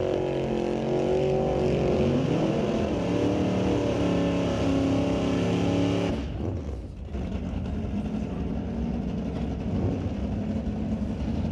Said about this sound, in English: First pair got the burnouts done.